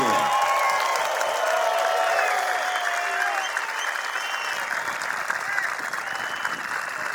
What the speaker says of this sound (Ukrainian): Ці оплески на адресу нашого головного тренера Сергія Шищенка.